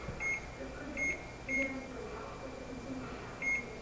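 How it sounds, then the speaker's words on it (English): An oven timer gives four short electronic beeps, spaced irregularly, as it is set to seven minutes, against a steady low kitchen hum. "I'm going to set my timer to, let's try 7 minutes."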